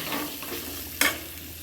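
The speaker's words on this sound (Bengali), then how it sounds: "দিয়ে আলুগুলো ভালো করে লাল লাল করে ভেজে নেব" Potatoes fry in a pan with hing, giving a steady low sizzle throughout, with a short sharp stir or scrape of the pan near the middle.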